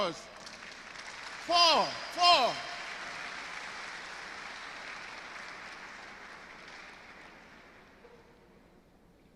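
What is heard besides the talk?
audience applause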